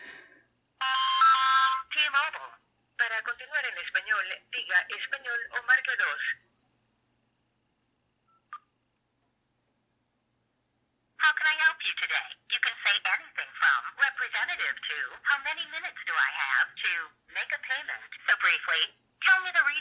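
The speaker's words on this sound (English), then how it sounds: "making a call quickly to T-Mobile" A phone call placed through an Android smartwatch over Bluetooth to T-Mobile, with bursts of ringback or dial tones and an automated voice, stopping for a silent pause midway before resuming, heard close and clear.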